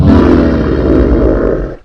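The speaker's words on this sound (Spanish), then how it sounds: "esta cosa soltó un maldito y horrible rugido" A monstrous creature's horrible roar sound effect, one loud, sustained, low, harsh bellow lasting nearly two seconds before cutting off, with no other sounds.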